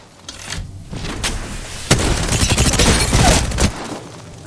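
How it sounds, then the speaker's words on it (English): Apex Legends gunfire sounds in dense, rapid bursts with heavy booming shots, loud and continuous for several seconds before easing off, with no talk over it. "Getting shot at."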